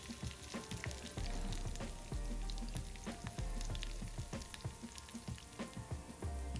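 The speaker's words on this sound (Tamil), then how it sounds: "நம்ம எப்போ ரசம் தாளிக்கிற மாதிரி தான்." Urad dal, fenugreek, mustard seeds, dried chilli, curry leaves and asafoetida fry in hot oil for a horsegram rasam tempering, a close, steady sizzle with crackling pops and occasional stirring, no voices.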